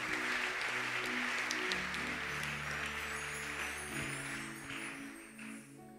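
A church congregation claps and cheers for the Lord, a steady wash of applause with a sustained organ or keyboard chord underneath, slowly thinning toward the end.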